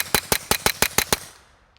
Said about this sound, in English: Let's shoot it fast and see what we got.